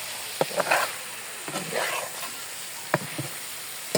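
Desi koi fish and fried pointed gourd sizzle in hot oil in a home kitchen pan, a soft steady hiss broken by a few sharp clinks and stirring scrapes, with quiet talk in places.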